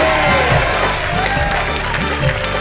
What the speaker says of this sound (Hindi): तो आइए हम उस कार्यक्रम में बजाते हैं तालियां